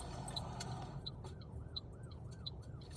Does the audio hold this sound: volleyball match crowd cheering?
no